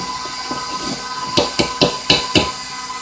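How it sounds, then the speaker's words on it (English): A whisk works a baking ingredient into flour in a bowl, giving five quick, sharp clinks against the bowl over a faint background hiss. Nobody speaks. "I'm going to kind of whisk it in there"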